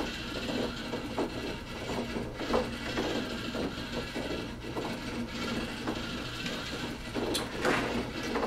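A drive motor turns a mechanical device at about 30 RPM, giving a soft, steady run of repeated ratcheting clicks and gear ticks at moderate distance, with no voices.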